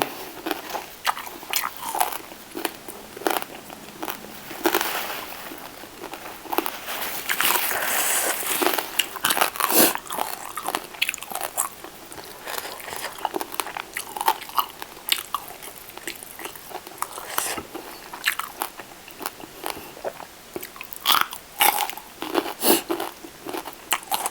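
Crispy deep-fried pork belly with Isan papaya salad is bitten and chewed up close, giving loud repeated crunches and wet squishy chewing in irregular bursts, with no talk.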